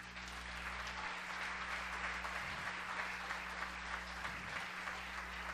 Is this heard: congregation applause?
yes